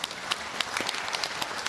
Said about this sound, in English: Round of applause for our little countries.